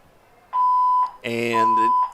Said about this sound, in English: looks like the alarms are going off here in the ballpark